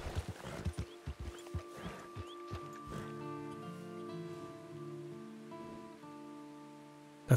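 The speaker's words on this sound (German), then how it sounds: "Das ist doch ein Pferd." Horse hooves clip-clopping in Red Dead Redemption II, a run of light, fairly close hoof steps early on, fading as sustained music tones take over.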